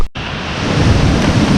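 A waterfall roars as broadband rushing noise, dense and loud and continuous after a brief dropout at the start, close with no talk over it.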